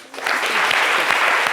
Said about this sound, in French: on applaudit encore très fort Laurent Monti pour ce plaidoyer